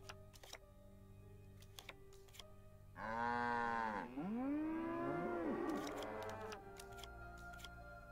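Cows in a Nancy Drew video game give two long, drawn-out moos one after the other, loud and close, with faint ticking game sounds before and after.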